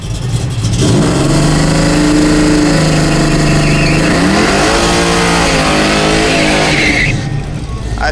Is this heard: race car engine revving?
yes